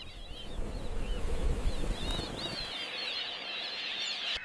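A flock of birds flapping their wings in a busy, continuous flurry, loud for the first two and a half seconds and then settling into a softer rustle with high chirping calls, no talking.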